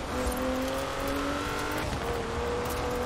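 A rear-wheel-drive car engine in the video game Forza Horizon 4 drones steadily while driving, with sustained, even engine tones and road noise throughout.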